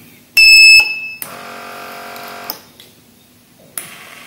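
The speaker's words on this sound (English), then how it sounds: "when the cup is sensed by this IR sensor, the beep sound will come" A loud, shrill electronic beep from an IR cup sensor on an automatic cup filling machine sounds briefly, followed by a softer sustained machine hum and a few clicks and clunks.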